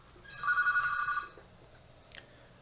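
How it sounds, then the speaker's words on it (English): A landline telephone in a hotel room rings with a single warbling electronic trill lasting about a second, fairly close and clear over a quiet room, followed by faint handling noise. "Let me get that phone."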